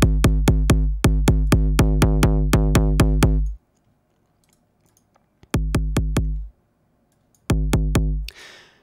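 Repeated distorted kick drum hits through a distortion plugin, struck in fast even runs with sustained harmonic-rich tails, stopping for gaps between bursts before a final burst fades into a noisy swell.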